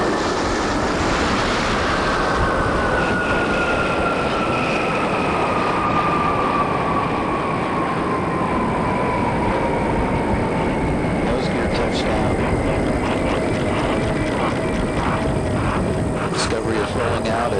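Space Shuttle rolling out on the Kennedy Space Center runway after main gear touchdown at sunset: a loud, steady roar and rush with a slowly falling whine over it, continuous and close throughout.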